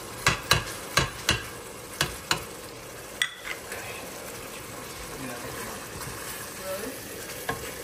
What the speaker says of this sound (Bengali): কষাবো যাতে মশলা কাঁচা গন্ধটা চলে যায়